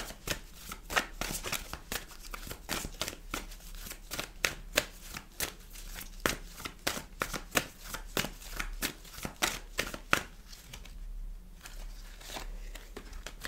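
A deck of tarot cards is shuffled over and over, making a steady run of sharp, close papery flicks and riffles in quick rhythm, with no voices.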